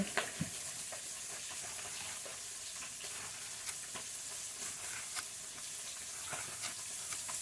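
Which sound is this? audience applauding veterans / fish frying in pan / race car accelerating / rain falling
fish frying in pan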